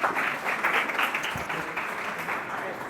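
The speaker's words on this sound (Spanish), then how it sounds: "les pido un aplauso para el doctor" An audience at a medical lecture on vasculitis imaging applauds the doctor who is about to speak, steady moderate clapping from a roomful of people throughout, with faint voices mixed in.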